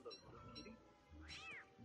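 A cat meows in the video game Don't Starve Together, a single drawn-out, rising-then-falling cry near the end, heard over low game ambience and faint background noise.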